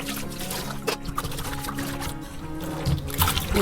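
Water pours and trickles steadily at a low level over shark meat being washed, with soft splashing and handling sounds throughout.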